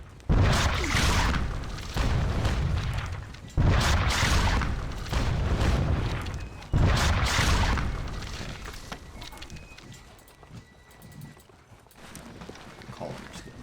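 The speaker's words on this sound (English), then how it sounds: "Now let's fire the cannon at these guys." Cannons fire in an American Revolution battle video game: four heavy, loud booms at uneven intervals, each trailing into rumble, then a quieter stretch of distant battle noise.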